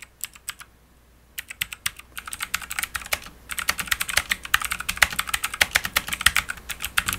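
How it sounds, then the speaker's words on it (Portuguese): A clicky mechanical keyboard is typed on up close, with a few isolated keystrokes at first, then a dense, rapid run of sharp, loud clicks continuing steadily without any voices. "Eu particularmente gosto muito desse som desse teclado, justamente por esses cliques e pelo barulho todo que ele faz."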